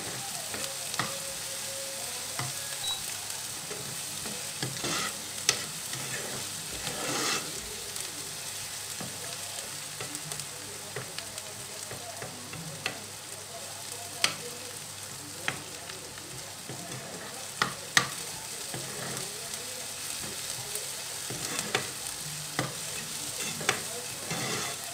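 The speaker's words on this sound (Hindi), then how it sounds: "बहुत अच्छे से भूनेंगे हम इसे," Food frying and being stirred in a pan until browned, a steady sizzle with scattered utensil scrapes and clicks throughout, close and moderately quiet, with no talking.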